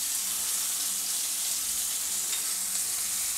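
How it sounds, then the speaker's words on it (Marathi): Turmeric- and salt-rubbed eggplant pieces frying in a pan give off a dense, even, close sizzle that runs unbroken without talk. "ही हळद मीठ लावलेली वांगे सोडून घ्यायची, आणि वरनं टाकायचे आपल्याला थोडंसं मीठ।"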